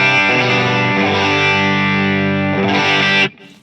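Electric guitar through an FM3 modeler on an ODS-100 amp model with mids pushed, a ringing sustained chord with a mildly driven edge, loud and alone, cut off abruptly at the end.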